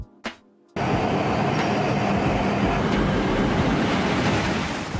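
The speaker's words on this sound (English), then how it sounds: "A high-speed train service, particularly associated with Japan's Shinkansen network" A high-speed bullet train of the Shinkansen type rushes past with a steady, loud roar of rail and wind noise that starts abruptly after a short quiet moment and holds for several seconds.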